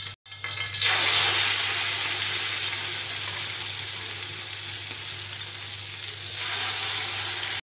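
Chicken drops into hot ghee in a pan while cooking a chicken dum biryani, setting off a loud, steady sizzle that rises within the first second, holds for several seconds, then eases slightly toward the end.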